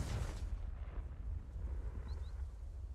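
In a video game, a Confringo explosion spell goes off as a deep, rumbling blast that hits hard at the start and then fades into a low, lingering roar, with no talking.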